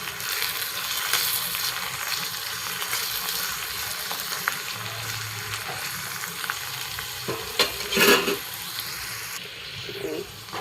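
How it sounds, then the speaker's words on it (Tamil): Peeled garlic sautés in a pan for a village-style mutton gravy, a steady moderate sizzle with intermittent stirring scrapes and a few louder clinks near the end. "இந்த பூண்டையும் சேர்த்துட்றேன். பூண்டையும் கொஞ்சம் வதக்கி கொடுத்துக்கலாம்."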